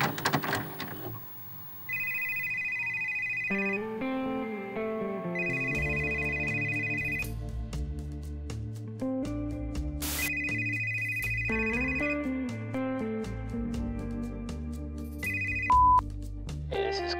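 A telephone ringtone plays alone: a bright repeating electronic melody with sustained high tones, loud and close, looping several times in steady phrases.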